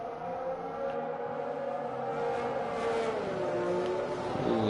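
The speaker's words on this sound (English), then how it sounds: "did you hear the downshift of it? It sounded really nice actually" Red Mercedes safety car in a racing video game at the Austrian GP, its engine note rising and then dropping through a downshift, loud and continuous with a steady high whine over a dense engine roar.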